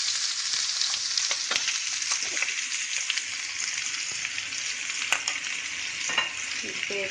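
Garlic ginger paste fries in hot mustard oil with a steady, bright sizzle and small crackles and pops throughout. It is close and continuous, with no talk.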